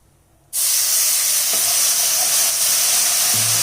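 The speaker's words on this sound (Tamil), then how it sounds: "இப்போ ஒரு ரெண்டு ஸ்பூன் தண்ணி சேர்த்து இதை கா கேரமலைஸ் பண்ணிக்கலாம்" Water splashed into sugar caramelizing in a hot pan for sago and jaggery halwa, bursting into a loud, sustained steamy hiss and sizzle that stays strong throughout.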